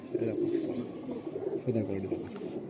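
Low, soft cooing of Madrasi Malwai pigeons rolls on steadily, close by, with a faint murmur of other sounds underneath.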